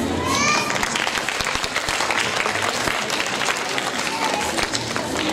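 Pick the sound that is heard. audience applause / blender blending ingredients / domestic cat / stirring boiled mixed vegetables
audience applause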